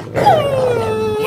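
A dog in the Minecraft video game gives a single clear, close yelp that slides downward into a whine lasting about a second.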